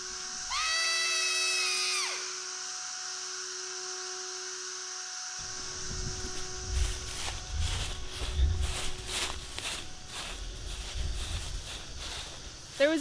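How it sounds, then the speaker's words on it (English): A single drawn-out scream rings out in the woods, high and wavering for about two seconds, then gives way to a low hum, rustling and scattered footstep-like thumps. "There was a scream, as I'm sure you heard."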